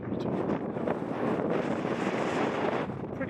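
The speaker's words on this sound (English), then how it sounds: "it's very windy" Strong wind buffets the microphone on a 479-metre hill summit with snow-capped hills in view, a steady loud roaring rush with gusty swells throughout and no voices.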